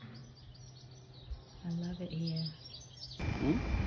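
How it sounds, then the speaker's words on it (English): Birds chirp and sing along a coastal hiking trail on the Algarve's Fisherman's Trail. The short, faint calls sit under quiet talk outdoors, and a sudden rush of noise comes near the end. "can you hear the birds singing, guys?"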